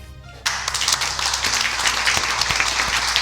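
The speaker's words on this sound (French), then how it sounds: "Un tonnerre d'applaudissements pour" Audience applause bursts in suddenly at a live French show in Amiens, a dense wash of many hands clapping that holds steady and swells slightly, loud and close.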